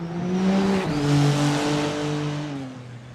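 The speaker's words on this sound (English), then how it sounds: "First car's already out on track." Race car engine in a GT3 racing video game session at Suzuka, droning steadily on track with a pitch shift as it shifts gear, close and loud throughout.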